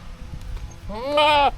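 A goat bleats on a goat farm, one loud, close, quavering call rising after a second of quiet rustling background.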